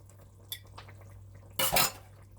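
Canned diced tomatoes go into a pot for three-bean chili in a Ninja Foodi multicooker, giving a brief wet plop and clatter against the pot over a low steady hum, preceded by a couple of faint clinks.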